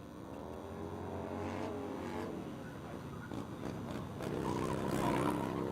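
A small drift car, a little Sportster, circles the Willow Springs International Raceway course, its engine revving and surging at mid distance with rising and falling throttle, growing slightly louder toward the end.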